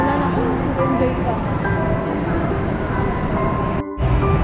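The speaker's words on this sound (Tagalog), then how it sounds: "Train!" A train rolls past at Star City, a steady broad rumble with tonal squeals and rattles filling the whole stretch, talk and crowd voices mixed in underneath.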